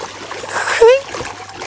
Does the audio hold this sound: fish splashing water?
yes